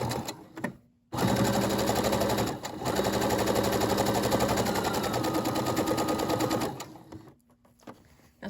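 A Brother SE600 sewing machine stitches a seam in two loud, rapid, rattling bursts separated by a brief pause, followed by quieter handling sounds.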